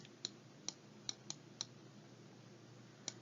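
Several sharp, isolated computer mouse clicks at irregular intervals, close and fairly quiet, over a faint steady background hum.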